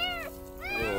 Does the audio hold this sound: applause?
no